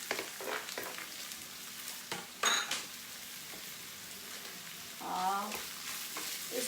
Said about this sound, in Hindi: ये जो पनीर है इसको मैं डाल दूंगी डायरेक्टली घी में